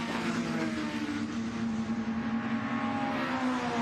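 Several 1950s sports racing cars power out of Lavant corner at Goodwood SpeedWeek, their engines a loud, continuous blended roar with overlapping tones as the pack passes.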